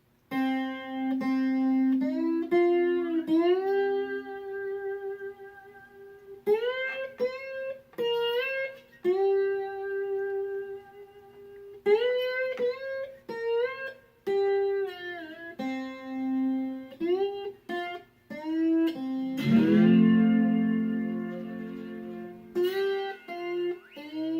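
Twangy slide guitar on a cigar box guitar playing a bluesy lead line in a Blind Willie Johnson style, without alternating bass, notes gliding between pitches in loose phrases, close and clear with no voices.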